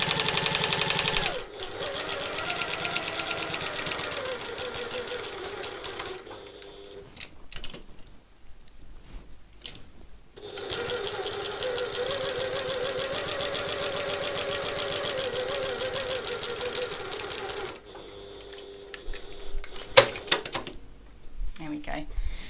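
A sewing machine runs in long steady bursts while stitching the bottom edge of a satchel panel, a fast even whirring near at hand, pausing between runs, with someone speaking briefly.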